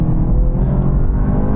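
A 1000hp BMW M5, an M5 Competition and an M550i accelerating hard in a rolling drag race from 50 mph, heard as a loud, close, steady engine roar with no talk.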